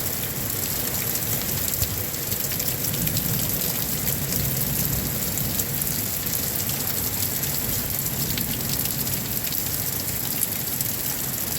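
Steady rain falls during a calm, nearly windless storm, a dense even hiss of drops pattering on surfaces nearby, constant and unbroken, with no voices.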